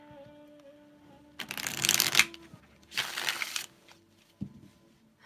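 Cards are shuffled in two brisk bursts of riffling and flapping, separated by a short pause, with a faint knock afterward.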